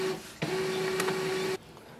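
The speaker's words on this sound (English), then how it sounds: "Wait for the printer to start and you should be able to see the light here." An HP LaserJet M209dwe laser printer powers up, its mechanism whirring with a steady tone for about a second, then cutting off abruptly. The sound is close and clear, with no talk.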